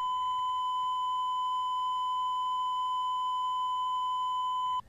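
A steady, pure 1000 hertz test tone held at constant loudness for several seconds, then cutting off abruptly.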